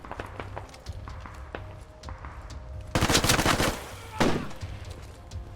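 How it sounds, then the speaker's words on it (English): Bursts of rapid AR-15 rifle fire in the tactical shooter Squad during a chaotic urban favela fight, loud and close, with footsteps and movement sounds before and between the volleys. "The AR-15, it's just a lovely gun."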